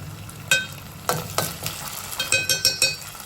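A spoon stirs street-style Manchurian sauce with orange-red colouring in a pan, making a series of sharp scraping strokes over a low sizzle, with quicker repeated stirs toward the end.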